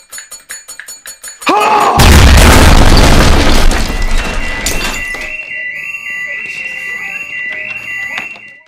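A loud explosion bursts in with a deep boom and rumbling roar after a few sharp thuds, then fades under a ringing high-pitched alarm tone.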